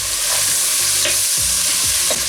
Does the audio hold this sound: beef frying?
yes